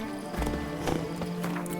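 Horse galloping in the video game The Witcher 3: Wild Hunt, a brief burst of several close, rhythmic hoof beats over a steady game backdrop.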